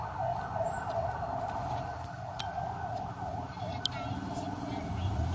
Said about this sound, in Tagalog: Galing pa ng San Miguel, Bulacan yung ambulansya.